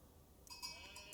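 Sheep bleating in the Age of Empires IV strategy game, a few short wavering bleats entering midway and repeating faintly over quiet game ambience.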